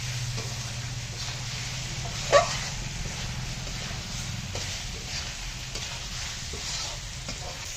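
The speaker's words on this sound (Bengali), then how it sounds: "এখন দিয়ে দেবো সিদ্ধ করা আলু আলুটা দিয়ে মশলাটা ভালো করে কষিয়ে নেবো" Boiled potatoes sautéing with spices in hot oil, a steady close sizzle with stirring and one sharp utensil knock partway through, no talking.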